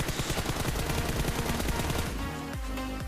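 M4 rifle firing in PUBG Mobile, a rapid, loud automatic burst of closely spaced shots for about two seconds, then fading echoes, without talk.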